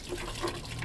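Dishwasher water splashes and trickles from a drain pipe under a Sprinter van, a soft continuous spatter of liquid heard close up for under a second.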